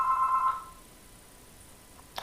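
A phone rings with a steady electronic tone that stops after about half a second, leaving a quiet room with faint background hiss and a small click near the end.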